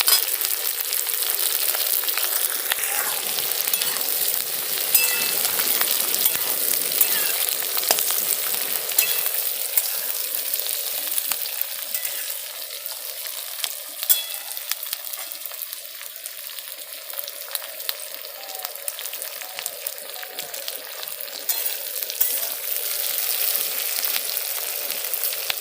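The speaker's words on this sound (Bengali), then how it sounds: "ক্যাপসিকামগুলোকে আবার একটু নেড়ে নেব" Capsicum, onion, ginger and green chilli fry and are stirred in a pan for a jackfruit chilli dish. The crackling sizzle is steady and fairly loud throughout, with scraping stirs mixed in and no talking.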